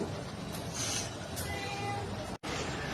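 A hungry cat meowing for food at home, a couple of short meows rising over a constant background hiss, with a brief dropout near the end.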